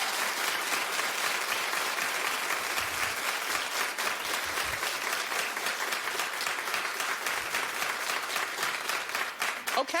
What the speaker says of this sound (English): don't clap for so long